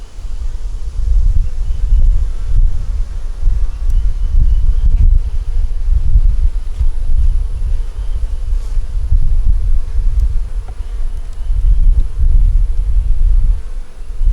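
Honeybees humming around an open backyard hive during a frame inspection, a dense, close, steady low buzz that swells and eases as the bees move, with no talking.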